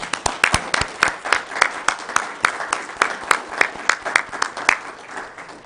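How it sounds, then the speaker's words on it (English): A room at a county commission meeting breaks into applause for an honoree, sustained crisp clapping from a modest group of people, steady and close throughout the clip. "Let's give Aaron a round of applause"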